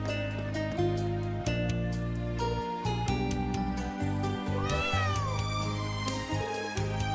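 A cat in the video game Trails of Cold Steel 3 meows over sustained game music, a brief rising and falling mew near the middle of the passage, fairly clear against the steady instrumental backdrop.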